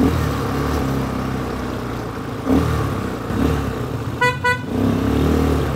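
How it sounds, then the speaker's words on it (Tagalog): A vehicle horn sounds in two short, loud honks over a steady engine rumble. "So, may busina rin pala talaga siya"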